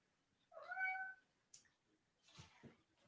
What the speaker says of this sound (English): Oh, my cat's just made an appearance.